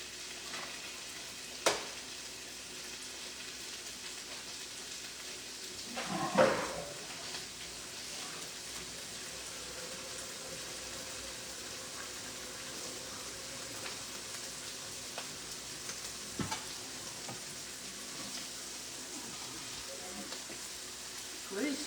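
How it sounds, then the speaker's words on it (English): Rice fries in a hot skillet on high heat, giving a soft, steady sizzle with occasional stirring scrapes and a few louder knocks, fairly quiet and close. "You're just going to fry this rice."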